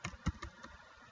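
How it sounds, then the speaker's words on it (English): A few uneven taps sound on a computer keyboard in a short, irregular burst of four or five clicks, then the typing stops and quiet follows. "my typing's terrible"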